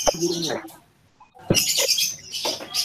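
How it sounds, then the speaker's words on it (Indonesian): Competition songbirds at a bird-singing contest give sharp, high chirps and bursts of calls, loudest in the second half, while people talk nearby. "Ada yang lagi lomba burung"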